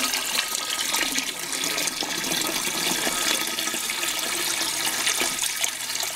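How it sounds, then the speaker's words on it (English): Water gushes steadily into a brewing tank for making a braggot, a continuous broadband rushing and splashing at moderate level with no talk. "let's get some water into the tank"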